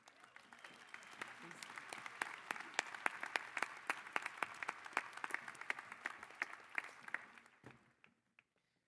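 Commencement crowd applauding to welcome the President's Party at a university graduation ceremony, dense sustained clapping from a large audience at a moderate distance, ending abruptly.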